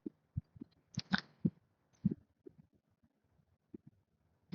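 Heartbeat sound effect in the Roblox obby game School Breakout: faint, low double thumps repeating in an uneven, quickening rhythm, heard alone without talk.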